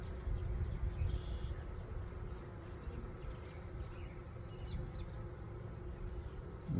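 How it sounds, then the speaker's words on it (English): Honey bees swarm a hive opened for inspection, a dense, continuous close buzzing drone that holds steady throughout with no talking. "There's lots of bees right here."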